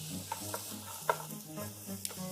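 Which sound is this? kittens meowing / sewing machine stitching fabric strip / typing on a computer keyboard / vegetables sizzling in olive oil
vegetables sizzling in olive oil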